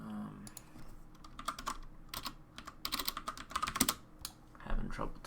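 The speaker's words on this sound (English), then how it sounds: "Having trouble typing." Quick bursts of typing on a computer keyboard, irregular clusters of crisp key clicks close to the microphone, with short pauses and a brief murmur of talk near the end.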